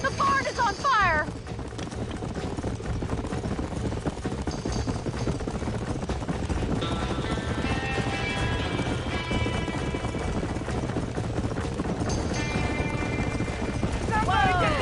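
In the video game Red Dead Redemption, horses whinny and hooves clatter in a burning barn amid a loud, chaotic scene with shouting voices and rumbling noise throughout.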